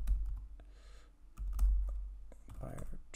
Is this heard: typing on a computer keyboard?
yes